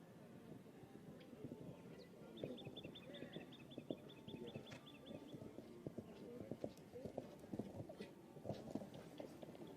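Horse cantering in a 1.10m junior show jumping round, distant rhythmic hoofbeats over a murmuring outdoor crowd, with a brief beeping tone and faint voices in the background.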